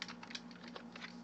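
Typing on a computer keyboard, a steady run of quick, light key clicks close to the mic, with a low hum underneath and no talking.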